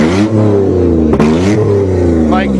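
A Toyota Camry accelerating, its engine note rising in loud harmonic sweeps that swell and shift over a few seconds, with a sharp knock partway through and voices in the background.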